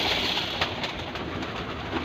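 A pet pigeon coos softly amid a steady, dense background hiss, with faint repeated cooing pulses through the short stretch and no talking.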